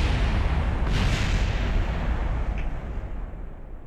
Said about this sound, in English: I can show off the new explosions again